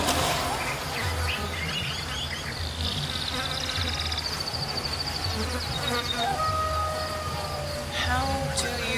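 A swarm of bees drones around a bee's nest in the prehistoric survival game Ancestors: The Humankind Odyssey, a steady close buzzing that rises and falls in pitch throughout, with faint chirps mixed in.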